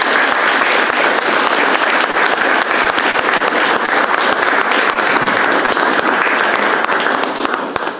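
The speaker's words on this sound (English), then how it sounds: "Let's give them all another round of applause." Loud, dense applause fills a high school graduation hall for the Class of 2021, continuous clapping from a large audience that stays even for about eight seconds without a break.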